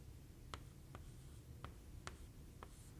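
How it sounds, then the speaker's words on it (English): A pen or pencil writes decimal numbers vertically on paper for a multiplication problem, making five quiet, separate scratchy strokes spaced evenly over a soft background hiss. "I am going to write it vertically."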